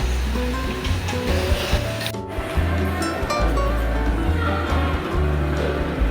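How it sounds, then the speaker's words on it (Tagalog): Strong sea waves churn and crash continuously during a typhoon off the Manila shore, a loud, dense roar of surf close by with steady wind noise and no pauses. "Ayan, lakas ng alon."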